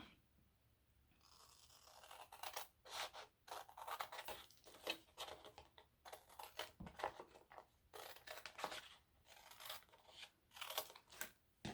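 Scissors snip repeatedly through a Chalk Couture transfer sheet along its cut line, a close, quiet run of crisp rhythmic cuts and rasps with brief pauses and no speech.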